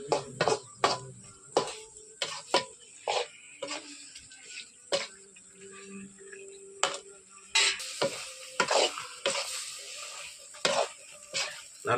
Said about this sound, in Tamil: பாருங்கள், நல்லா கிண்டிக்கணும்.